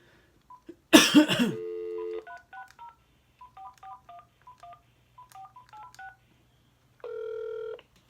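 Touch-tone keypad beeps while redialing a for-sale-by-owner cold call, preceded by a brief cough, then a quick run of short dual-tone presses and a longer ringback-like tone at the end, close and clear with no speech.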